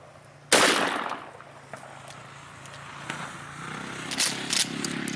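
A shotgun fires a single round in a home defense demonstration: one sharp, loud blast near the start, then a long fading echo and faint rustling handling noises.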